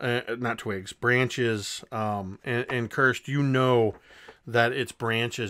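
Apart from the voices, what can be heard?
No distinct noise like a dog, phone or traffic.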